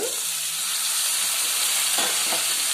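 Boiled broad beans hit a pan of fried ginger garlic paste, giving a steady close sizzle with a couple of quick stirring knocks near the end.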